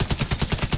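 Rapid automatic gunfire in the Dark Zone of the video game The Division: a fast, even burst of about seven shots, loud and close.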